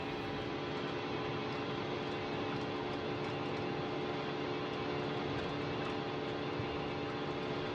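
A Delta Air Lines A320-200 spools up to takeoff thrust in a flight simulator, heard as a loud, steady, broadband engine roar with a high whine running evenly throughout.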